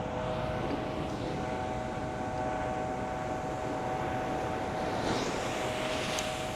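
A helicopter circles overhead above the ocean, giving a steady, loud rotor and engine drone that holds through the whole stretch, with wind noise on the microphone and no talking.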